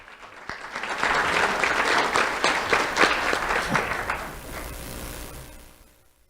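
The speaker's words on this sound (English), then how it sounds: "Let's have a round of applause for Elijah Lander." An audience at a school awards ceremony claps steadily for several seconds, a dense wash of applause that swells and then tapers off.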